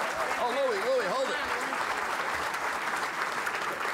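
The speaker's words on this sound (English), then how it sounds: "how about a big round of applause for our speaker?" Steady audience applause at a City Club of Chicago luncheon for a U.S. congressman, a dense wash of clapping throughout. A voice talks briefly over it at the start.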